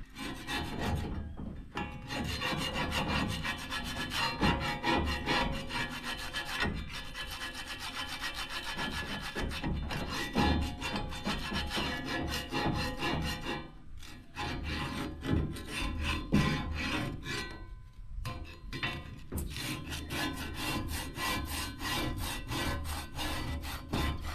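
Continuous rough scraping of old paint off wood, steady and rhythmic strokes with brief pauses, close and fairly loud, no voices.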